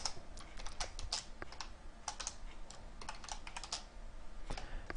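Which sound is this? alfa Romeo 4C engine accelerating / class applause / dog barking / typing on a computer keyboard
typing on a computer keyboard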